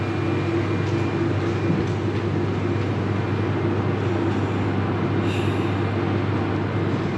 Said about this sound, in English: beautiful train station with some pretty Czech trains here.